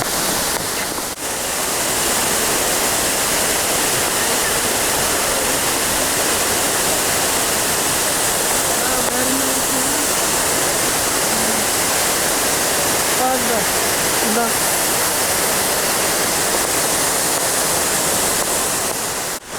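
Banyumala waterfall in Bali roars as a loud, steady, dense wash of falling water close by, unbroken for the whole stretch, with a voice faintly audible under it.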